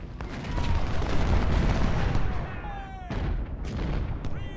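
Twenty-four-pounder artillery in the Civil War strategy game Ultimate General booms in a dense, rumbling volley over several seconds, with battlefield noise continuing behind it.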